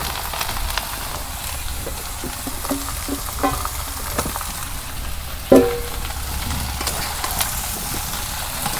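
Washed vegetables go into a hot pan for a fish curry with eggplant and potato, and a steady sizzle and frying hiss follow with scattered stirring clicks and one sharp clatter near the middle, close and continuous.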